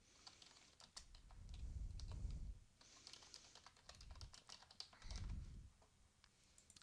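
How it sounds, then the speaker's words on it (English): Steady typing on a computer keyboard while filling in fields of an insurance certificate form, with quick clustered keystrokes in short bursts and pauses, close and fairly quiet, no talking. "I'm going to type in some different things with these different green fields for this certificate holder"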